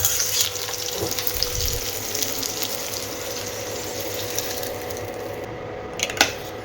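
Jujube (kul) fried in oil with dry chilli, bay leaf and mustard, a continuous close sizzle with a few knocks and clatters of utensils, and no talking.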